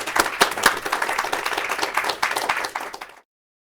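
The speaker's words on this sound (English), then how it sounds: "let's conclude with a round of applause for Dan Markey and a wonderful job" An audience applauds at the close of a Library of Congress book presentation: dense, steady clapping for about three seconds, then it cuts off abruptly into silence.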